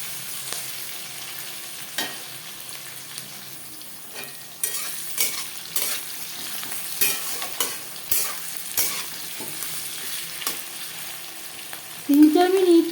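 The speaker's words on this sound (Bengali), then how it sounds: "পেঁয়াজের সাথে টমেটো ভেজে নেব" Onion and tomato frying in a pan for chicken biryani, a continuous sizzle broken by repeated scraping strokes of a spatula, close up, with a brief louder burst near the end and no speech.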